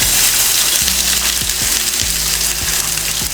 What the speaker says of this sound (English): The vegetables we cut earlier, go ahead and put them in your hot smoking pan.